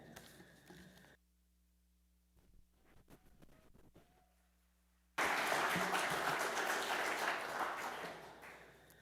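Audience at an annual general meeting, a quiet room with a few scattered sounds giving way to a sudden loud burst of sustained applause that gradually tapers near the end.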